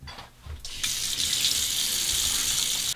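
Hot water gushes steadily from a bathroom tap into a sink, starting after a brief pause and then running loud and close for a few seconds before stopping.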